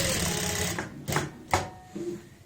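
An electric sewing machine stitches pant lining along a curve, loud and close: a steady whirring run, then a few short start-stop bursts.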